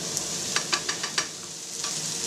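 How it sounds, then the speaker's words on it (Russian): Chopped onion and bell pepper fry in a pan for kharcho soup, a steady soft sizzle broken by a quick run of scraping stirs and utensil clicks. "Вместе с лучком обжариваем еще минут 5."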